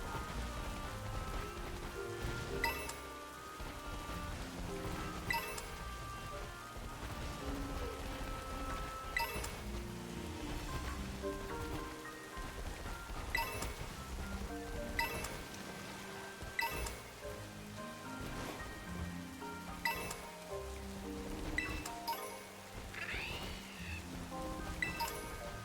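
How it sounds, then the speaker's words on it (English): Steady rain falls in the Pokemon Scarlet DLC, a continuous hiss layered under the game's music with regular beats and melody throughout. "now it's raining"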